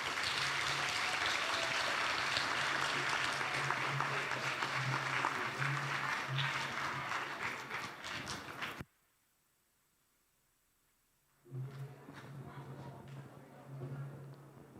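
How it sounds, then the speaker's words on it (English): An audience claps steadily at a memorial lecture, a dense, fairly loud round of applause that cuts off abruptly into silence, then resumes at a lower level with a voice over it. "Let's give Mr. Broomes another round of applause"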